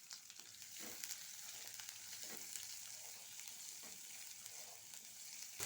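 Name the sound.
onion sautéing in oil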